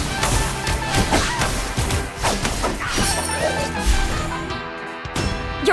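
Guardian structure destroyed in the game Extraordinary Ones, a loud crashing shatter with heavy thuds and debris layered over busy game effects, ending in a short quiet gap before another hit.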